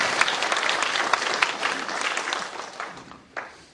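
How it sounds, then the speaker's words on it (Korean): Church congregation at a pastors' couples seminar gives a round of applause, steady dense clapping from a sizable crowd that fades out over a few seconds. "하나님께 영광의 박수 한번 하겠습니다"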